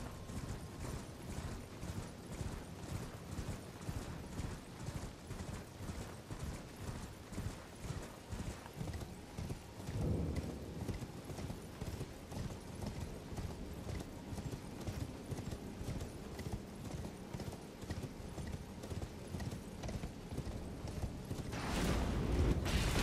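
Rapid, even hoofbeats of a horse galloping in Elden Ring run steadily and faintly throughout, with a brief louder burst of another sound near the end.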